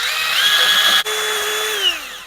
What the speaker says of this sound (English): You use step drill and you just massage it